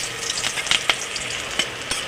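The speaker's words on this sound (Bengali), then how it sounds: "পেঁয়াজটা ভাজা হয়ে এসছে দেখো।" Chopped onion frying in oil with cinnamon, cloves and cumin seeds for a paneer curry, a steady close sizzle broken by a few light stirring scrapes.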